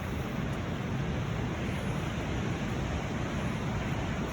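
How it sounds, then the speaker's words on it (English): Loud, continuous roar of strong wind gusting at a riverside gold-prospecting camp on the Wild Ammonoosuc, a dense rushing noise that fills the scene without letup and no voices. "You hear that wind?"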